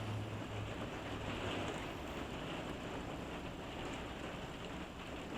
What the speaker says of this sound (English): Sorry about the noise of the rain, it seems to be getting worse.